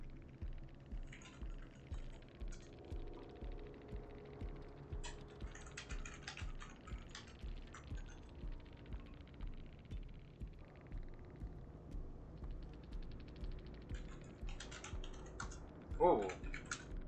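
Steady clatter of keystrokes on a computer keyboard, quick irregular taps running throughout with brief pauses, close and moderately loud over a faint background hum.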